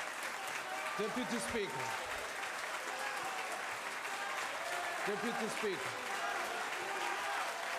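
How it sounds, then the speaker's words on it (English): Members clapping together in a National Assembly plenary chamber, a broad steady patter of applause running throughout beneath repeated spoken calls to the Deputy Speaker. "Yeah, you can clap together."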